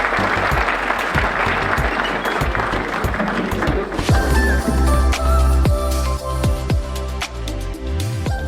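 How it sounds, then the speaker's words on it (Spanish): An audience at a World Water Day conference applauds the organizers. The dense clapping runs for about four seconds, then thins into scattered claps as music comes up. "Aplausos a los organizadores."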